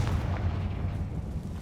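Confringo fire spell exploding in Hogwarts Legacy, a deep rumbling boom that stays heavy and low for under two seconds, loud and without speech.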